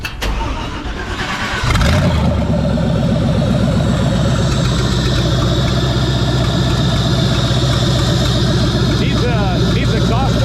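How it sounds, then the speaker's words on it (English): V8 engine in a Morris Minor hot rod with a Dodge Charger fuse box and no exhaust, cranking, catching and then running loud and rough with a deep, lumpy idle and small revs, close up. "I'll fire it up so that people can hear it."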